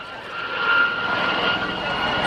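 Gazelle helicopter in flight at an airshow display, a steady broadband rotor and turbine roar holding level at moderate distance for a couple of seconds, with no voices over it.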